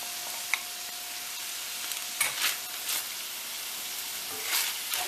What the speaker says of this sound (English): And in goes your pepper, onion, and garlic mixture.